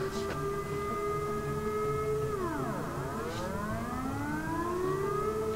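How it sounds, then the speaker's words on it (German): A civil defense siren sounds across the town of Besel, a loud continuous wail that holds steady, sweeps down sharply, then climbs back up, filling the air with no talking. "Und jetzt haben wir gerade Sirenenalarm hier in Besel."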